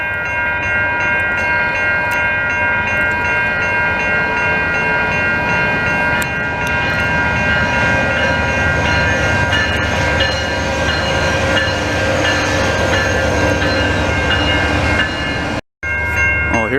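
A Montreal commuter train rolls past close by in a continuous loud roar with steady wheel and rail noise, holding for most of the stretch before a brief gap near the end.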